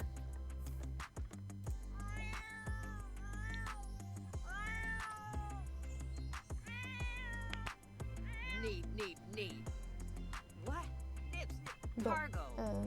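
A Sims 4 cat meows repeatedly in game, a string of drawn-out, rising and falling meows and yowls over steady low game music, with a voice talking at times underneath.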